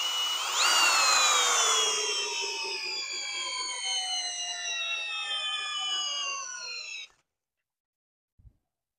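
An older-generation Kobalt cordless drill in drill mode, speed 1, at peak torque on a fully charged 4 amp-hour battery whines loudly, its pitch sagging steadily as it strains under load, then cuts off abruptly, followed by a brief click.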